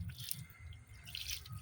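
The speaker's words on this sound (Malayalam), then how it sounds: "ചെടി നട്ടു, വെള്ളം ഒഴിച്ചു." Water poured onto a newly planted plant, heard as close, faint splashing and dripping in uneven bursts.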